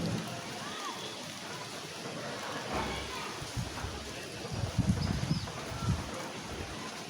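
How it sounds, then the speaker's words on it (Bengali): Rain falls outdoors under a suddenly clouded sky as a soft, steady patter and hiss. Faint distant voices and brief louder knocks rise near the end. "বৃষ্টিও পড়ে"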